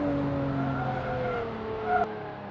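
A Lotus race car brakes hard into a track corner, its engine note dropping through a falling tonal whine with faint tyre scrub, ending in a brief sharp click.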